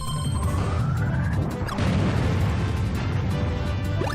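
Missile spat out and exploding in Kirby Triple Deluxe, a dense crashing burst with rising whistling tones over continuous game noise and music, loud and sustained throughout.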